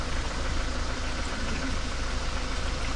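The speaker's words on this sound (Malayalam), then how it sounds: "പോന്നു ഇന്നോവ വന്നു. ഓ ബാക്കോട്ട് പോകുന്നുണ്ട്." A Toyota Innova reversing on a Gavi forest road, its engine a steady low idling drone with continuous broadband rumble throughout, fairly close and without pause.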